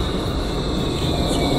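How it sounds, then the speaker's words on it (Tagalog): A new Edmonton Valley Line LRT light-rail train gives a steady, close, fairly loud rumble and hum, with no voices heard. "Ayan, bagong-bagong tren to."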